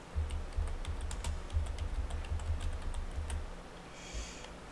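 Fingers tapping on a computer keyboard while searching contract law terms, a quick irregular run of clicks close by that slows and stops near the end.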